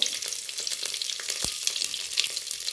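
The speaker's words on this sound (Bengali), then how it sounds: "পেঁয়াজটা একটু ভেজে নেব" A medium-sized onion frying in a pan, a continuous soft sizzle with light crackles and an occasional scrape of stirring, fairly quiet and with no voices.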